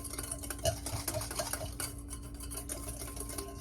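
A spoon stirs Dijon mustard into a broccoli salad with light, irregular clicks and scrapes against a bowl, quiet and close over a faint steady hum.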